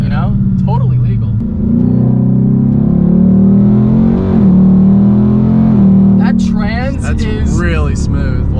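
A Jeep engine with catalytic converters revs loudly and rumbles, swelling and falling in pitch, with voices talking over it near the end.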